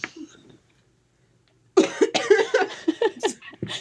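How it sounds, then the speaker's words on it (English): A short cough, then silence, followed by a burst of repeated harsh coughing and throat noises close to the microphone. "There's a cough button on the other ones to mute it when you cough."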